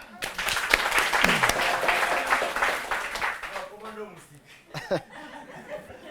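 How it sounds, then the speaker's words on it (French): A comedy show audience applauds with scattered clapping and some chuckles, then the clapping thins out as voices take over. "On applaudit, s'il vous plaît."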